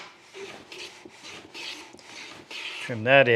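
A hand plane shaving a wooden board edge on a shooting board, a series of short, soft rasping strokes close by, followed by a brief tonal squeak at the end.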